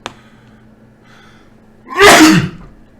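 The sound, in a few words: sneeze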